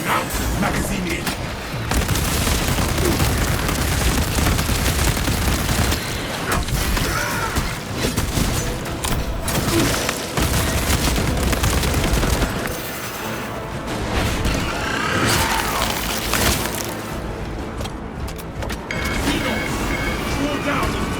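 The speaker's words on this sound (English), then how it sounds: "Unleashing crack grenade!" A crack grenade explosion and gunfire in a video game: a dense, loud, continuous barrage of booms, shots and crashing mechanical clatter, with a voice speaking over the chaos.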